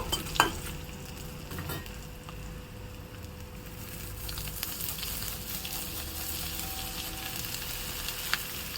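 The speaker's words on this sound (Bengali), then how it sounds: "আর দিয়ে দেবো কাজু কিশমিশ। এগুলো একটু নেড়ে চেড়ে নেব।" Cashews and raisins frying in a pan are stirred, giving a soft steady sizzle with occasional scraping and clinks of the spoon against the pan, faint and without talk.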